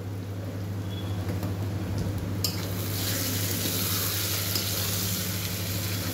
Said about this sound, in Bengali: লবণটাও দিয়ে দিলাম, দিয়ে ভালো করে নাড়াচাড়া করব।